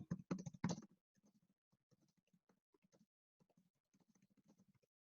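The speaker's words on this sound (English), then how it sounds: "So I'll type that in." Keys clatter on a computer keyboard in a quiet room, a few firm strokes at first followed by a lighter, irregular run of soft tapping, close and fairly faint.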